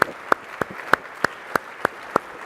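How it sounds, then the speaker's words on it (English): Sharp, evenly spaced claps ring out at a software product keynote, about eight of them in a steady rhythm, each crisp and isolated against a quiet hall. "let's have another round of applause for our product team"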